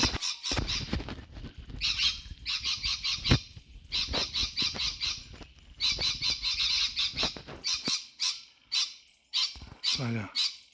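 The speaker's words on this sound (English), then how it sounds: "Birds, man. Birds are loud." Outdoor birds squawk and chirp loudly in rapid repeated bursts, some harsh goose-like calls among them, with a few low sounds underneath.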